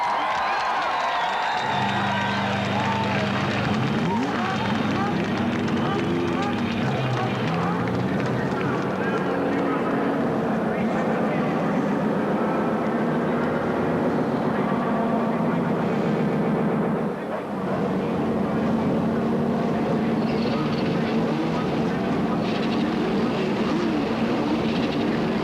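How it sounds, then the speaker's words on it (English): IndyCar race engines from the 1992 CART PPG IndyCar World Series round at Phoenix fire up together in a sustained, loud, droning roar with a low rumble. Crowd noise mixes in and a voice speaks over it. "Gentlemen, start your engines!"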